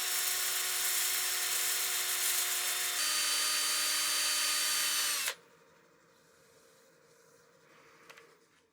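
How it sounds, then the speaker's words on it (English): A power sander spins against a partially seasoned wooden bowl on a lathe turning at about 600 rpm, a loud steady whining buzz that dips in pitch midway and then cuts off, leaving quiet room tone. "I'll power sand the outside here and then the foot"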